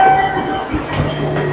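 Train passing near a station in Japan: a steady rumbling roll with a faint metallic whine, heard close by and continuous for the brief moment, with no talk over it.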